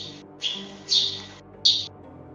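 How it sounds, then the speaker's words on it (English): Bird outside chirping in repeated bright, high-pitched bursts, three or four calls in quick succession, fairly close and clear over a faint low background. "I'm gonna kill that bird by the way, if you guys can hear him."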